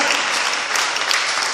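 Applause during a church service: a dense, steady burst of clapping from a congregation, loud and continuous throughout.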